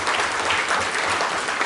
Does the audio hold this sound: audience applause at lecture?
yes